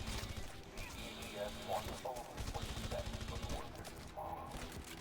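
Sustained gunfire in Red Faction Guerrilla on Insane difficulty, dense rapid shots layered with crashes and impacts throughout, with a player's voice talking over the combat.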